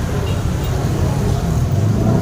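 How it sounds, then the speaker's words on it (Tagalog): Heavy road traffic rumbles in a steady low roar of cars and buses close by, with a voice speaking over it. "Sobrang traffic, kagulo."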